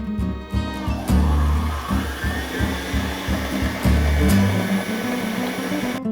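An electric mixer beats a whole wheat flour batter with banana, running loud and steady at close range with a few shifts in pitch as the beaters move through the bowl.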